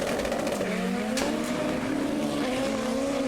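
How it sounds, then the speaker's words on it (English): Auto racing broadcast playing through speakers during a live stream, race car engines droning steadily with rising and falling pitch, loud and continuous throughout with no talk. "Dan, turn the volume down on the racing"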